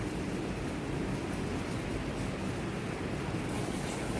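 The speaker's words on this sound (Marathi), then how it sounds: "इथे पाण्याला छान उकळी आलेली आहे" Water with butter and salt boiling in a pot, a steady, dense bubbling hiss that stays constant and fairly close throughout, with no voices.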